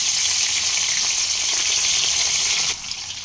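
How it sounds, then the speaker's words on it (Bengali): Pomfret fish sizzling in hot mustard oil over a medium flame, a steady loud hiss and crackle that dips slightly near the end, with no voices. "তেল গরম হয়ে এলে মাছ দিয়ে দেব। মিডিয়াম ফ্লেমে 1 মিনিট হালকা লালচে করে ভেজে নিয়ে অপর পিঠটা উল্টে দেব।"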